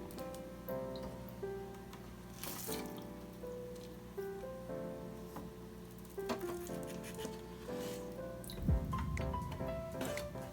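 Clownfish are netted and released into aquarium tank water, giving soft squishy drips and small splashes, with a bigger watery slosh near the end, heard faintly over a quiet background.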